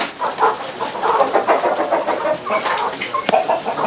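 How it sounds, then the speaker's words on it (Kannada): Native breed chickens on a farm flock with roosters, clucking in a steady, busy chorus of overlapping calls close by, with no talk. "ನಾಟಿನ ಇವೆಲ್ಲ ಕೋಳಿಗಳು?"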